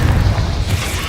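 A Confringo or Bombarda spell blast in the video game Hogwarts Legacy, a loud, heavy low boom that rumbles on for about a second.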